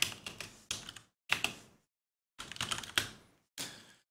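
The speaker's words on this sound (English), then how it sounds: "well, if I can type." Typing on a computer keyboard, bursts of quick, close key clicks separated by short silences, with a few sharper strokes.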